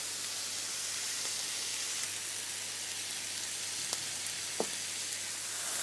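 Peppers and onions fry in a pan, giving a steady close hiss of sizzling fat with a few faint clicks and taps.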